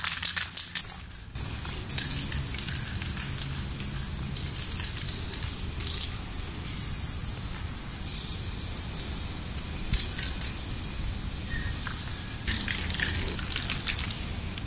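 Spray paint can hissing steadily while filling in a graffiti piece, a continuous close spray broken by short pauses and re-presses, with no talking.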